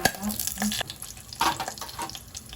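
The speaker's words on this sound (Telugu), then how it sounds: "బాగా ఫ్రై చేసుకోవాలండి" Lentils, almonds, chana dal, urad dal and cumin fry in hot oil in a pan, giving a close, uneven sizzle broken by spoon-stirring scrapes and clicks over a few seconds, with no talking.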